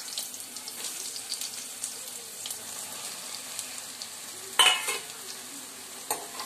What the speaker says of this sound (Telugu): మిల్ మేకర్స్ని ఈ ప్యాన్లో వేసి కొంచెం ఫ్రై చేసుకున్నామండి